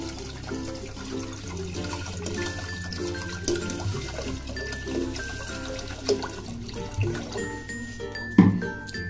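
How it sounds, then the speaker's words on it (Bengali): Water pours into a pot of rice, a steady close splashing and gurgling stream that carries on throughout, with brief clunks toward the end. "সব চাল দিয়ে দিয়েছি। আর এবার জল।"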